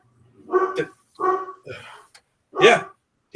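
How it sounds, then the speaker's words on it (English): A dog barks in a home setting, four loud close barks spaced in an uneven rhythm over a few seconds, with no talk over them. "I don't know what he's barking at."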